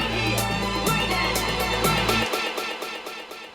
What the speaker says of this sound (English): What I'll do now is just cut it in and out so you can hear the echo effect applied.